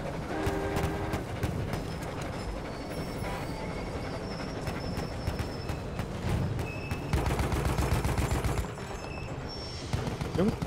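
An armored train rumbles and clatters on its rails in the Battlefield 1 video game, with gunfire and explosions crackling around it in a dense, loud, continuous wash of battle noise and squealing wheels.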